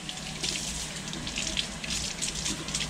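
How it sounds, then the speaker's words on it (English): Green onions rinsed by hand under a running kitchen sink tap: a steady, close hiss of flowing water with soft splashing fluctuations as the handful moves through the stream. "Rinse them in this side of the sink."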